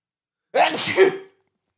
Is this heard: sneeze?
yes